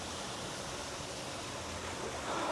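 Indoor waterfall at a koi pond inside an aquarium gives a continuous, even rush of splashing water, steady and close with no talking.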